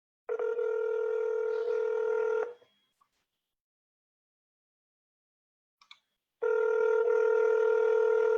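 Telephone call tones sound loud and steady, a long ringback burst, then silence with a faint click, then the tone resumes near the end.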